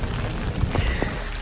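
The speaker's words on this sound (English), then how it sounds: "Pouring rain in Salem." Heavy rain pouring down in Salem, a steady, close wash of drops hitting surfaces with a few louder splatters, with no voices.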